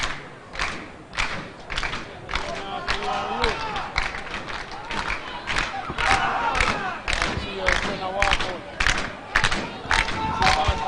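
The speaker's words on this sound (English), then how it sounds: "So the cheering you're hearing in the background" A large stadium crowd at an athletics meet at the National Stadium chants and cheers with rhythmic thumps and claps, and voices rise and fall throughout.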